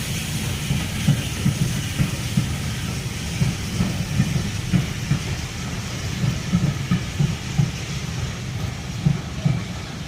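Steady low rumble of a heritage train at Keighley, with continuous rolling noise and faint hiss throughout, fairly close and unbroken, no voices.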